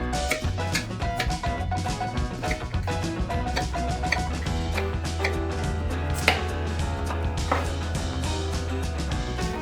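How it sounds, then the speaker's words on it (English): A knife cuts a peeled turnip into cubes on a board, with quick, fairly loud chops in an uneven rhythm over a steady low musical hum. "Turnip is peeled, so we cut it into cubes."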